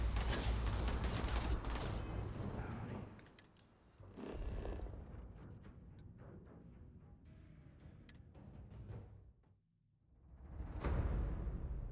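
Gunfire in the video game Starfield crackles in quick, dense bursts, fairly faint, breaking off into quieter mechanical clicks and a lull before swelling again.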